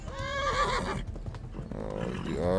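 A horse neighs loudly in the video game Kingdom Come: Deliverance, with a long, shaky whinny at the start, then a second rising whinny near the end, with noisy game background sounds between.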